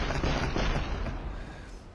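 Close-range gunfire from a Saiga shotgun in DayZ, a dense, continuous burst of loud blasts packed together across the whole stretch, fading slightly toward the end.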